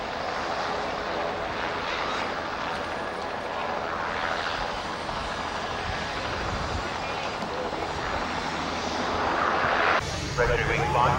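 A Yak-52 aircraft's engine runs with a steady, loud propeller drone that rises slightly near the end, heard from close by under radio chatter and voices.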